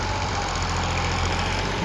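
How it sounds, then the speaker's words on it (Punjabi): A Massey Ferguson 9500 tractor engine runs steadily nearby on farmland during root clearing, a constant low rumbling drone with no change in pitch. "ਟਰੈਕਟਰ ਲੈ ਕੇ ਆਇਆ ਹੋਇਆ ਮੈਸੀ 9500 ਦੇਖੋ"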